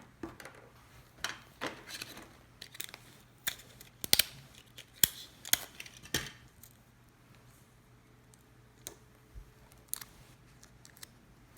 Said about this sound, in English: Let me just tape this down.